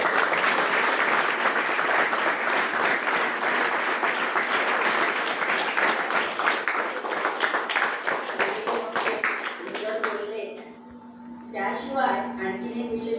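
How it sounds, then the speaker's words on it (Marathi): A school audience at a Gokhale High School event honouring Gandhi and Lal Bahadur Shastri claps loudly for the children in a long, dense burst. It fades near the end as a voice resumes speaking. "टाळ्या वाजवा सगळ्यांसाठी"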